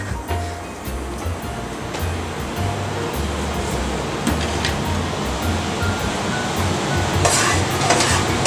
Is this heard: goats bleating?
no